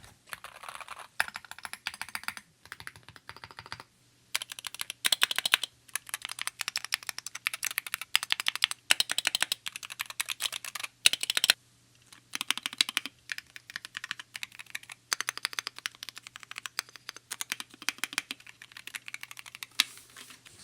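Rapid typing on Wooting 80HE and 60HE keyboards, close-up bursts of clicky keystrokes with short pauses between runs, the 60HE slightly more tinny.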